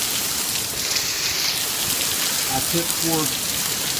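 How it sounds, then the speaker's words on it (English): Hail falling outside in Raleigh, North Carolina, a steady dense patter on surfaces filling the whole stretch, with a voice briefly speaking. "It is hailing outside."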